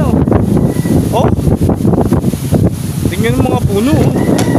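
Strong wind roars steadily into the microphone outdoors, loud and close, with trees tossing. People talk over it throughout.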